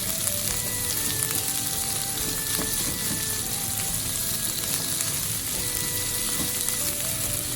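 Onions sizzle steadily in a hot pan for yakisoba, a dense continuous frying hiss with faint stirring scrapes, close and alone.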